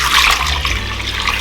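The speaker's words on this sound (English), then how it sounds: "this is about 140, not gallons, grams, grams of milk. So I'm just going to pour that in." About 140 grams of milk poured into a bowl for sourdough gata, a steady splashing liquid stream heard close up and alone throughout.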